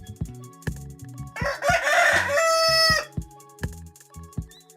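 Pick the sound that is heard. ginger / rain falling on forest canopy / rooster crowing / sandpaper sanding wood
rooster crowing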